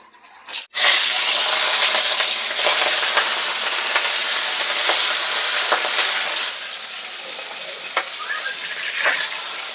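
Shrimp dusted with turmeric fry in hot oil in a kadai, giving a loud, steady, crackling sizzle that lasts throughout, with a few sharper pops and spatters near the end.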